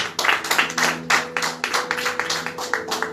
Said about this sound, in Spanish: Aplausos al Rey.